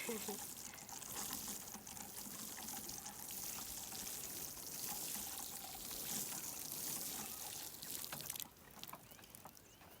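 Water pouring onto baby corn and other vegetable plants in a home garden: a faint, continuous splashing spray that runs steadily, then softens abruptly shortly before the end.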